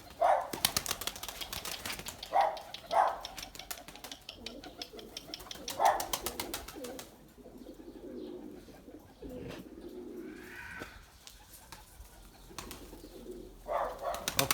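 A tumbler pigeon flips in flight with rapid bursts of wing flapping and clapping, alongside soft pigeon cooing nearby, repeating in clusters across the stretch.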